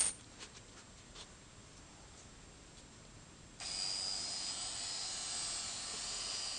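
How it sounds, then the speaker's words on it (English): A Dremel rotary tool fitted with a cutoff wheel trims a plastic dental tray. After a few quiet seconds of light handling, its thin, high-pitched whine starts suddenly and runs steadily, close and moderately loud. "Now the cutting is going to be done by hand using the Dremel with the cutoff"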